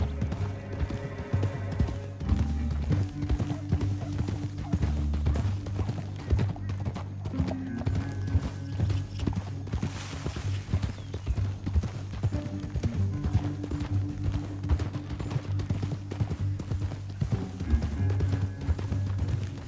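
Horses riding in the video game Red Dead Redemption 2, continuous rhythmic hoofbeats clip-clopping close by over a low rumbling score, with an occasional whinny and faint voices in the mix.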